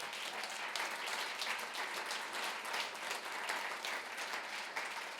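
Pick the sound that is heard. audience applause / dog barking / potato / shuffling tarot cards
audience applause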